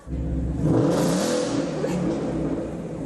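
A Ford Mustang sports car revs its engine on a large fire-station parking lot, a loud, close rising roar that swells and then settles into a steady drone.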